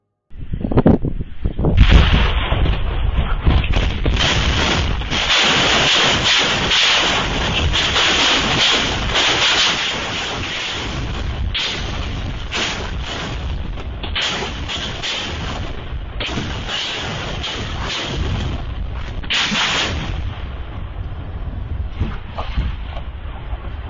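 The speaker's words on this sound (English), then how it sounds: "let's play this footage of cluster munitions being used" War footage of cluster munitions going off, a long stretch of dense, rumbling blasts and crackling bursts layered over heavy wind buffeting on the microphone, loud at first and then easing slightly.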